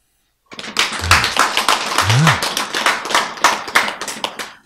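Audience clapping during a Korean-language lecture on healthy eating, starting abruptly after a moment of silence, with close, crisp claps from many hands in an uneven rhythm and a brief voice underneath.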